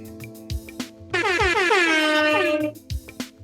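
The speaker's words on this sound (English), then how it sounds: "And with the air horn, we are back." One long, loud air horn blast rings out for about a second and a half, a brassy chord standing clear of the quieter sounds before and after it.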